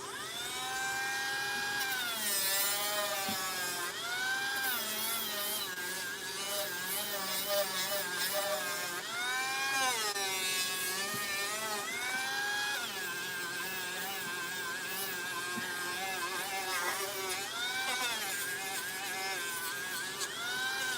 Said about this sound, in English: That's why I do specialty work like what I'm doing right now with this sanding disc.